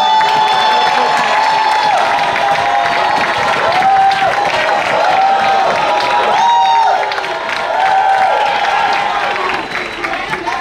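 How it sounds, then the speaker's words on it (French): A church congregation at an evening service applauds and cheers for a visiting church delegation from Accra, Ghana, a loud, dense wash of clapping with whoops and high voices rising and falling throughout. "j'aimerais qu'on applaudisse la délégation de l'Église chrétienne internationale de Accra au Ghana"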